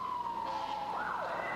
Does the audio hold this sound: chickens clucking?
no